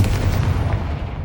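In Hogwarts Legacy, a Confringo blasting curse erupts in a deep, booming explosion with a rumbling low-end tail, loud and close, filling the short moment without speech.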